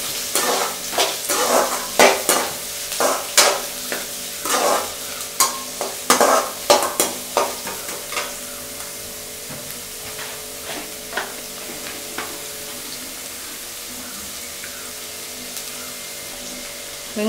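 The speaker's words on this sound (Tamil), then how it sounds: "போட்டு நல்லா கிளறி விடுங்க. வெங்காயம் பொன் நிறமாகிற வரையும் நல்லா வதக்கி விடுங்க." Chopped onions are stirred and sautéed in a pan for rava kichadi, with a spoon scraping the pan in a rhythmic series of clattering strokes over a low sizzle, the stirring thinning out and fading to a quiet fry.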